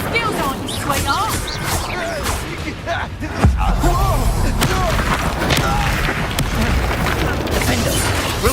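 Spell blasts in Hogwarts Legacy, a loud booming explosion landing about midway through a busy stretch of crackling magic effects and game noise, with character voices talking throughout.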